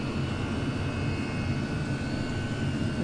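A Chinese diesel oil heater in a camper van runs at full power, with a steady loud roar and hum of combustion and fan that stays constant throughout, up close with no pauses.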